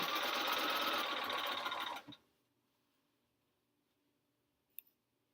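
A sewing machine stitches quilt blocks for a sampler quilt in a loud, steady two-second run, then stops abruptly, leaving near silence broken by one faint click.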